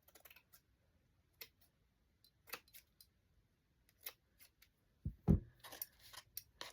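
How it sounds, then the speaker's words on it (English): Scissors snip paper for a collaged envelope, a scatter of small dry clicks and cuts with gaps between them, close and quiet, ending in a brief louder rustle and crunch of handled paper. "We'll snip some of that off."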